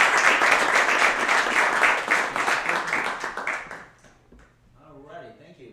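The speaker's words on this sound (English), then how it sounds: "Let's give a round of applause for Mr." Audience applause for a speaker at a live finance talk event, dense steady clapping from a room full of people that fades over a few seconds before a voice begins speaking.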